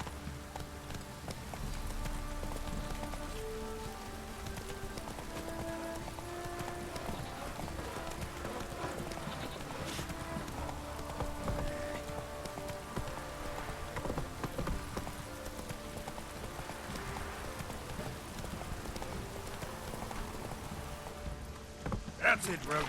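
Galloping hooves of Roach, Geralt's horse in The Witcher 3: Wild Hunt, make a continuous rapid clip-clop rhythm under game music and a voice talking, steady and fairly loud for the whole stretch.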